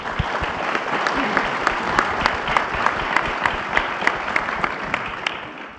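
An audience at a K-12 school cybersecurity event breaks into sustained applause, many hands clapping steadily and fairly loudly for several seconds before fading out.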